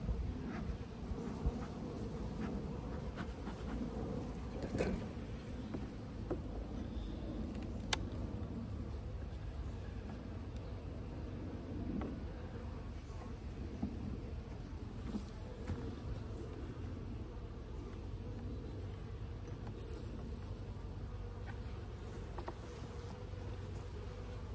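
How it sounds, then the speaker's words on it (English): A steady, dense buzzing of many honeybees hovering close by during a hive inspection, continuous throughout with occasional louder passes near the listener. "there are a bunch of bees up here"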